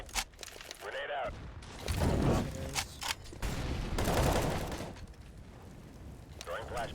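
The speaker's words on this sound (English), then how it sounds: "Grenade out." Grenade thrown and exploding in an online shooter game match, rumbling blasts swelling twice amid rattling gunfire, with a voice talking between the bursts.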